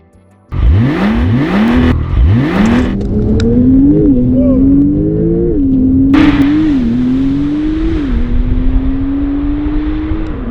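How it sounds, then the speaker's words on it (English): Hard acceleration from a 1640 kg Porsche 911 Turbo S (992) twin-turbo, loud and close, with rising engine pitch through several gearshifts over about ten seconds; a voice is faintly heard. "to see how fast this 1640 kilo all-new iteration of Porsche's greatest icon can move"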